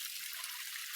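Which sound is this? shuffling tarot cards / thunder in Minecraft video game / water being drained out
water being drained out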